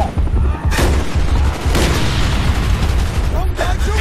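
Call of Duty Black Ops combat in a Vietnam jungle setting: loud continuous gunfire and booming blasts, including grenade explosions, fill the whole stretch with dense battle noise.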